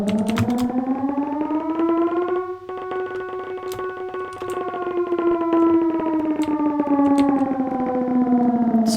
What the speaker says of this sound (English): Let's go ahead and activate the air raid siren.